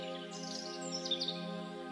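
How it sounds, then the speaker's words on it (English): Birds chirp and sing in scattered bursts against a steady background hum, the calls fairly faint and distant. "you can hear birds singing to each other in the distance"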